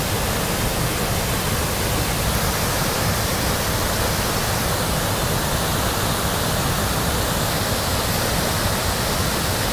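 A waterfall swollen by rain and snowmelt roars steadily and loudly up close, a dense unbroken rush of water along a muddy trail, with no voices.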